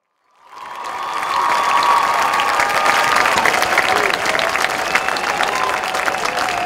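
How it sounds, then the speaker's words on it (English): Crowd applause at a high school football game for the homecoming court, swelling in quickly and holding as a broad, steady wash of clapping with some cheering in a large outdoor stadium. "please give the 2014 Hahnville High School Homecoming Court a round of applause"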